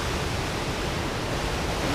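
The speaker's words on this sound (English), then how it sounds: "Now let's enjoy the waves." Ocean surf breaking on a beach on a sunny day with surfers out, a steady loud broadband wash of waves with no distinct individual crashes, heard alone.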